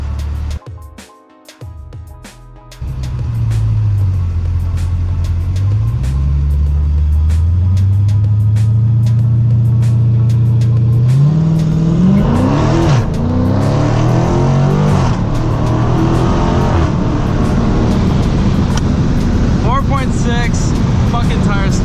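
A Dodge Challenger SRT launches hard with its tires spinning, engine revving up from idle into a loud, sustained roar with rising pitch and wheelspin howl, close by and continuous, while someone talks over it.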